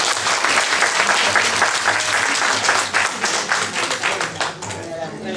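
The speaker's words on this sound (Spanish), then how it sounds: "Un aplauso, por favor, para él." An audience at a cultural-week talk on gender violence claps loudly and steadily, with dense applause that fades slightly toward the end.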